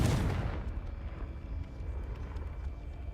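The Confringo spell in the video game Hogwarts Legacy sets off a loud, deep explosive boom that quickly fades into a low rumbling tail with faint crackles.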